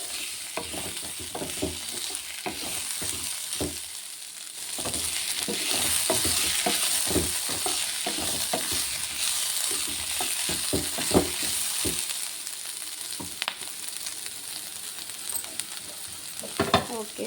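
Ginger garlic paste fries in a pan, a continuous sizzling hiss broken by frequent rapid spatula scrapes and taps against the pan, close and steady, with no one talking.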